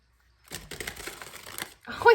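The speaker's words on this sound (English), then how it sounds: "I did already give all these cards a quick shuffle here" Quick riffling and flicking of tarot cards, a short burst of papery shuffling that stops abruptly, followed by a brief sound at the end.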